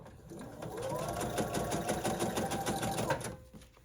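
A sewing machine chain-pieces small quilt triangles, stitching in a rapid, steady whir close up that runs continuously before cutting off at the end.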